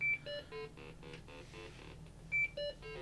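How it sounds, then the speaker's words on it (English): Columbia Data Products VP Portable, an early IBM-compatible portable PC, sounds a string of short electronic beeps while testing its RAM, several brief tones in an uneven rhythm over a quiet background hum. "you kind of hear that little beeping, do, and it'll do that as it goes through every single segment of RAM"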